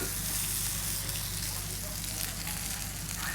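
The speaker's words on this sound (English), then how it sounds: "So, vegetables are grilling nicely." Vegetables sizzle on a grill in a restaurant kitchen: a steady, dense crackling hiss with a low hum beneath, continuous and close throughout.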